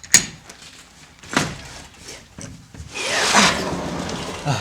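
Wooden knocks and a scraping thud as a heavy wooden cabin window is unlocked and worked loose, then a broad rushing rub as it swings open, close and fairly loud.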